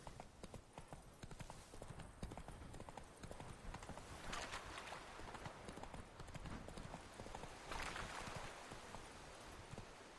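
In The Witcher 3: Blood and Wine, horse hooves clip-clop in a steady, continuous gait, quiet and even, mixed with faint ambient game sounds.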